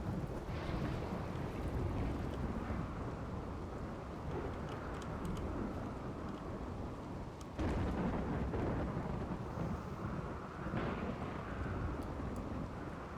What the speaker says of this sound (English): lightning struck the crops